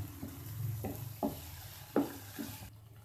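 Chicken and vegetable stuffing for a cheesy sandwich cooking in a pan, a soft sizzle under several spaced scraping stirs of a spoon. Quiet and close, ending abruptly.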